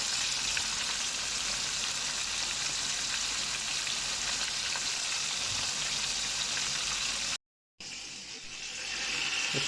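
Fenugreek, cinnamon, cardamom, black pepper and cumin frying in hot oil for fish majboos, a loud, steady hiss and crackle that cuts out briefly near the end and then comes back.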